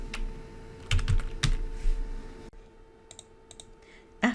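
Typing an essay on a computer keyboard: irregular bursts of crisp key clicks, close and clear, with short pauses between flurries and a few isolated taps toward the end.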